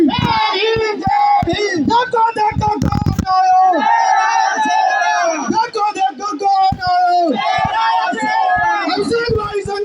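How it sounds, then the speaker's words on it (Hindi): A large crowd at a political rally roars, cheers and chants together, loud and sustained for the whole stretch with shouting voices layered over dense crowd noise. "एक बार जोरदार तालियों के साथ आपकी आवाज मंच की आवाजों को दबानी चाहिए।"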